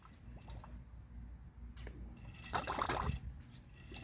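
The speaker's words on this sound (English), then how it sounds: "I'm going to finish draining the rest of this oil out." Used oil drains from a 30-inch Murray riding mower, a faint continuous trickle and dribble with scattered drips, brief louder splashy stretches, and low background rumble.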